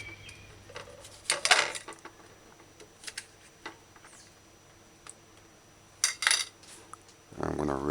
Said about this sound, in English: Just dice tomato.